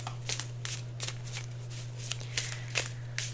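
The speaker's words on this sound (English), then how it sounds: "I can't shuffle for some reason." Tarot cards are riffled and shuffled by hand in a series of quick, crisp bursts, about a dozen short flutters spaced irregularly over a low steady hum, fairly quiet and close.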